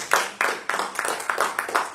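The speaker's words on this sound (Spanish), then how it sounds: "Denle un aplauso al Señor." Clapping from a church congregation at an evangelical service, a handful of people striking hands in an uneven, bursty rhythm of about eight claps, fairly close and moderate in level.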